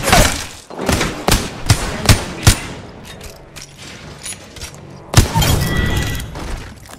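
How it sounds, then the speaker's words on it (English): Enemy gunfire in a video game: loud, rapid bursts of shots and heavy impacts cluster at the start, with another sharp burst later over a dense, noisy game soundscape. "Enemy shooting."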